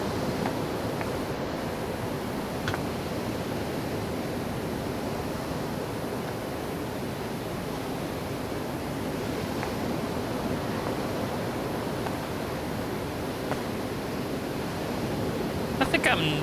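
A steady hiss of water blasting from a pressure washer in the Power Washer Simulator game, a dense continuous spray held at one level throughout with no talk.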